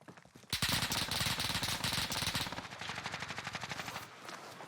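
A long rapid burst of automatic gunfire in Warzone, loud and close, hammering out fast evenly spaced shots for about three and a half seconds before thinning out, with no talking over it.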